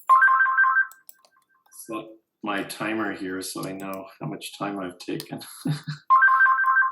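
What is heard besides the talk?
phone ringtone ringing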